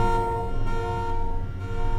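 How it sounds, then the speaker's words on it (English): A vehicle horn honks steadily in a theme-park building video game, a loud sustained tonal blare holding for about two seconds with only brief dips, with no talk over it. "Stop honking. Stop honking."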